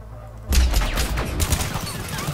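Gunfire from a turret in Mass Effect 3 erupts in a loud, rapid burst after a brief quiet lead-in, its shots rattling on close and heavy for the rest of the moment.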